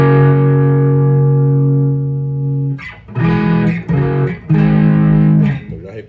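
An electric guitar played through a Tech 21 British overdrive pedal starts with a long, sustained distorted chord ringing out, then several punchy, crunchy chord stabs follow in a loud, saturated tone.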